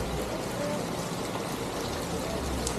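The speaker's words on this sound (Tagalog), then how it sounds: "Malakas ang ulan." Heavy rain pouring down around a hotel and beach resort, a dense, continuous hiss of falling water with spatter on surfaces, steady throughout.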